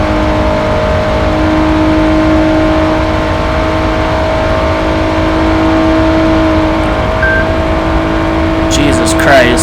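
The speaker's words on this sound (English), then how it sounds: "And this is a big twin turbo V8 as well." A Koenigsegg twin-turbo V8 in a Gran Turismo 2 remake racing game holds a loud, steady engine drone at constant pitch, with a brief rising whine near the end.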